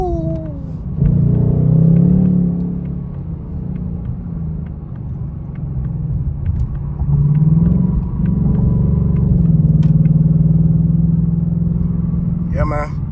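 A 2025 Ford Mustang GT's deep, steady engine idle rumbles loudly and continuously, with a slight rise in revs midway, recorded close by.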